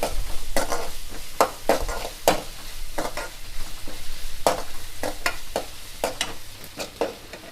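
Garlic sautéing in a pan for paruppu urandai kuzhambu, stirred with a spoon that scrapes and clacks in quick irregular strokes over a soft frying sizzle, close and fairly loud.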